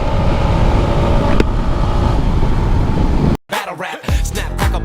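A motorbike ridden fast gives a steady roar of engine and wind buffeting for a few seconds, then cuts off sharply and gives way to a different, tonal sound.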